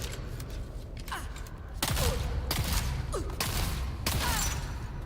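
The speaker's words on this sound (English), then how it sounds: "The shotgun's actually pretty good." Shotgun blasts in a desert survival shooter game, several loud broadband bursts roughly a second apart, each with a heavy low thump and a short metallic tail, over continuous low rumbling ambience.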